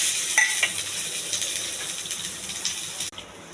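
Urad dal with some husk, chana dal, mustard seeds, cumin, curry leaves and green chilies crackle in hot oil in a close, steady sizzle that cuts off sharply near the end.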